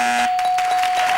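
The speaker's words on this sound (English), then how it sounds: "Bell is sounded. Time is up." A game show bell rings out with a bright metallic clang, several quick repeated strikes over about a second, loud and close.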